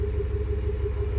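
Car engine idling and lightly revving, a steady low rumble with a faint pulsing rhythm, close by and continuous with no talk.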